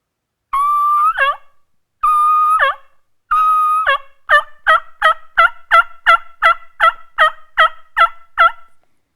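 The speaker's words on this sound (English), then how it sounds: "that gives you your successful turkey yelp" A series of turkey yelps from a diaphragm call: three drawn-out, high whistly notes, then a fast, steady run of about ten sharp, loud yelps.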